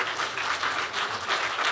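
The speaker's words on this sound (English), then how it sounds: "Clap again the hand for SOS." An audience at a national reading competition claps for SOS in a brief, dense burst of steady applause, moderately loud and with no voices over it.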